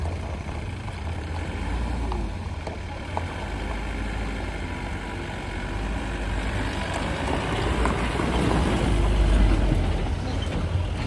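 Heavy vehicle engines grinding slowly up an earthen ramp during a palanquin procession on the road, a steady deep low rumble that builds louder toward the end, with no clear talk.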